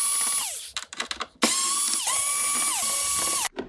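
A ratchet tool loosening screws on the fairing panels of a BMW K1200LT motorcycle gives loud, close whirring bursts. They start with short spins and then settle into two longer runs that each wind down at the end.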